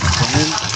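Water begins running from a kitchen tap, a steady broadband splashing rush that fills the brief moment, with a voice murmuring underneath.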